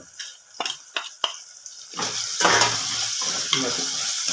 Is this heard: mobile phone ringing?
no